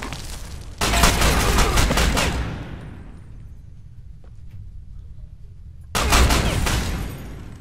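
Automatic gunfire in the online shooter Ghost Recon Online: two loud sustained bursts of rapid fire, the first running about two seconds and fading into a quiet reverberant tail, then a second burst near the end.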